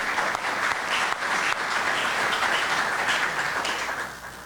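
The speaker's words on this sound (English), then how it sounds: "Let's give them another round of applause" Applause from an audience at a Rotary meeting, a dense, continuous wash of clapping that holds steady and then tapers off near the end.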